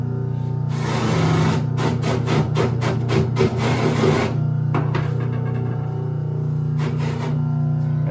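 A cotton buffing wheel spins on a polishing machine while it is cleaned, making a steady hum with a burst of rapid rasping scrapes near the start and a few shorter scratchy touches later.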